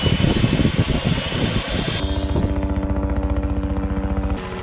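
A small ERA C032 radio-controlled helicopter whines steadily as it takes off, its motor and rotor producing a loud, continuous buzzing hum close by that shifts in pitch partway through, with no voices.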